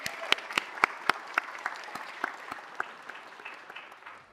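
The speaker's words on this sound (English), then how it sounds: "let's give another round of applause for those amazing dancers" Audience applause at a city council meeting after a dance performance, starting with several sharp, distinct claps, then thinning into a softer, fading patter over about four seconds at moderate distance.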